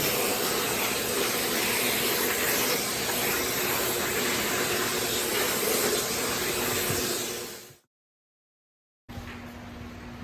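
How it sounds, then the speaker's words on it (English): A shop vacuum runs steadily, close and loud, sucking sawdust off sanded wooden pieces of a folding hammock stand, then cuts out briefly before the hiss returns. "And just vacuum it up."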